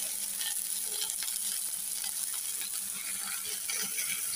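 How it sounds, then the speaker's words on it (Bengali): Onions frying in oil in a pan for a dried-fish mash, giving a steady, dense sizzle with occasional clicks and scrapes as they are stirred, and no speech. "পেঁয়াজ ভেজে নিচ্ছি"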